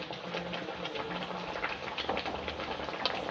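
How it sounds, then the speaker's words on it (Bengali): Bottle gourd leaves simmer in a pot of water, giving a steady close bubbling hiss with scattered soft pops and stirring ticks throughout. "এটা একটু ভালো করে লেড়ে লেড়ে সিদ্ধ করে নিচ্ছি পাতাগুলো"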